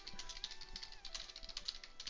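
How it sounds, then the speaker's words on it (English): Hard, fast typing on a computer keyboard, a quick rattling patter of key strikes at low level beneath a steady high electronic hum. "you guys can just hear me hammering my keyboard"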